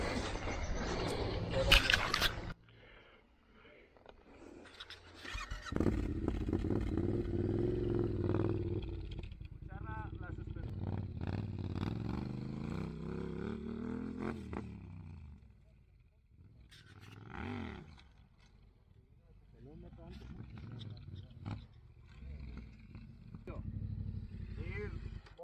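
A stock Yamaha Ténéré motorcycle climbs an off-road slope at a Ténéré Spirit Spain training day, its engine rumbling and rising in bursts under frequent nearby talk.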